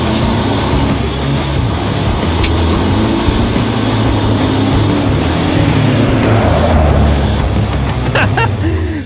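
A race car engine roars steadily at close range, revving hard as it accelerates from a standing start through the gears. A gear change is missed near the end, and faint voices sit under the engine.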